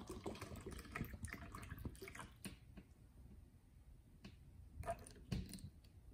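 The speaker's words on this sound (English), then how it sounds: "Let's pour some water in." Purified reverse-osmosis bottled water is poured into a small test cup, a soft trickling splash with a few faint drips and handling clinks in a quiet room.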